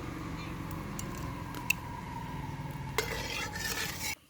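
Cardamom, cinnamon and cloves sizzle softly in a pan, a faint steady fry under light stirring with a couple of sharp metallic clicks near the end, quiet and close.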